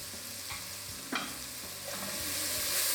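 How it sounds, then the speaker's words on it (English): Onions, celery and garlic sizzle steadily in a pot while a utensil scrapes and stirs through them in a few distinct strokes, close and alone. "I'm ready to stir the garlic in."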